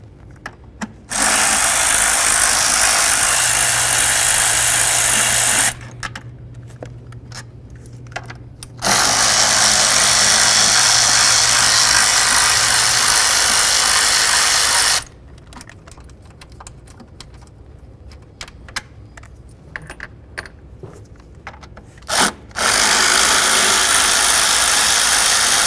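A power tool, likely a cordless impact driver or ratchet, spins out throttle body mounting bolts on a Ford Expedition, making loud sustained high whirring bursts of several seconds each, separated by quiet gaps with faint clinks.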